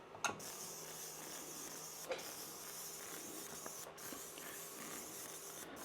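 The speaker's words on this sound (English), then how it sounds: "This is the new Ramp-O-Matic Flap-O-Matic machine." A shop-built Flap-O-Matic ramp-flap machine running after a button press, giving a steady, faint hissing whir with a few light clicks and knocks, continuous and alone without speech.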